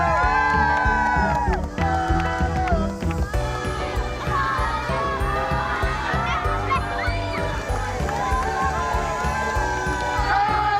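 A crowd at Knock airport cheers off a rugby team flying to Edinburgh: a continuous, loud wall of voices with shouts, whoops and horn-like tones, sustained throughout with no pauses.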